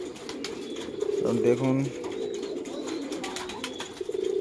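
Pigeons coo in soft, low rolling calls at a home loft of about two hundred birds, a clear near burst in the middle with more cooing around it while someone speaks briefly.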